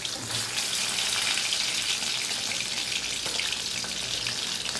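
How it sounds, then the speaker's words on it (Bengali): Pieces of katla fish dropped into hot oil for frying, a steady, bright broadband sizzle that holds loud and continuous throughout with no voices. "দেখুন বন্ধুরা, মাছটা এবার দিয়ে দিলাম।"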